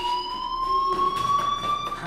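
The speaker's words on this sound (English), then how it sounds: "Hey, do you hear that fire alarm?" Fire alarm ringing in the video game Life is Strange, a steady high electronic tone with faint pulsing underneath, moderately loud and continuous with no talk.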